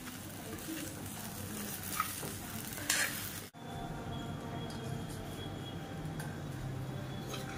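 Leftover idli frying in a pan, a soft steady sizzle with a few stirring clatters near the start, a brief cut midway, then quiet frying continuing alone.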